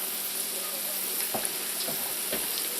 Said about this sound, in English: I'm just going to toss my vegetables here, just to make sure that I cook out all that flour taste.